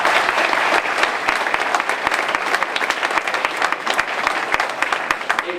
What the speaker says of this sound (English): Let's give all the teachers and the principals who supported them a big round of applause for all they did.